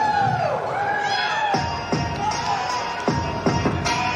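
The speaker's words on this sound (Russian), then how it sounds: "Дайте ему шума, ваши аплодисменты!" A crowd cheers and shouts at an ACA MMA tournament, with whoops rising and falling over a continuous arena roar and a steady tone running underneath.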